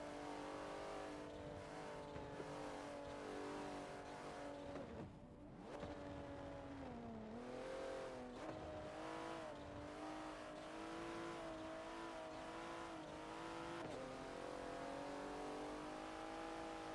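A Porsche 911 Turbo S engine in the racing game Forza roars steadily at high revs on an Alps track, its pitch dipping and climbing through gear changes, loud and continuous with no talking.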